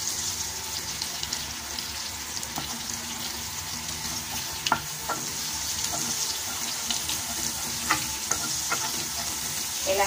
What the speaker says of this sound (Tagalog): Igisa ko lang siya sa century.